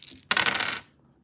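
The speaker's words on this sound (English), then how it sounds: "So we're gonna roll the dice." Dice rolled for a tabletop game attack, a quick hard rattle and clatter on a table, a short burst of tumbling clicks that stops abruptly and fades to near silence.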